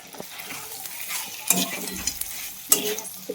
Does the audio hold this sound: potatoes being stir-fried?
yes